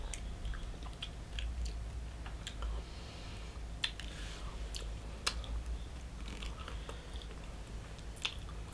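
Close, soft chewing and biting on a spicy gopdoritang stew with Korean beef intestines, wet squishy bites and small clicks at an irregular pace, quiet and with no talk.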